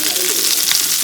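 Sardine roe frying in a pan at home, a steady close broadband sizzle with faint crackles running throughout, loud and continuous with no pauses.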